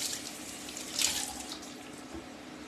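Tap water runs steadily into a kitchen sink while a Tornado utensil is rinsed, a continuous close hiss that swells briefly midway, with no talking.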